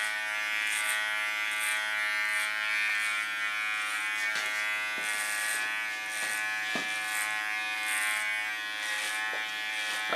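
Electric hair clippers buzz steadily and close up through an ultra-short feminine clipper cut on platinum hair, run with a clipper comb, with a few faint clicks and scrapes under the continuous hum and no talking.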